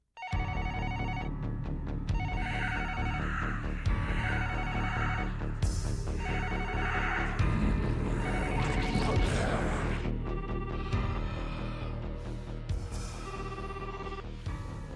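A telephone rings on and on unanswered in an anime scene, repeated electronic ring bursts over a busy background of music and sound effects with a crash in the middle.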